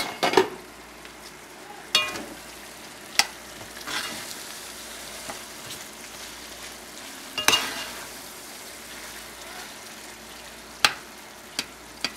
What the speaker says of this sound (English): We're going to put this in the pot on top of all these delicious smelling vegetables.